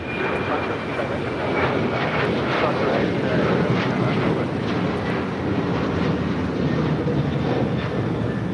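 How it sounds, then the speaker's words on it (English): An Alaska Airlines Boeing 737-900ER, Flight 310, takes off from LAX with a loud, sustained engine roar that fills the whole span, heard from nearby. "This is Alaska Airlines Flight 310 taking off to Washington Dulles on a 737-900ER."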